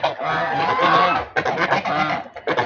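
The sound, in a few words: geese honking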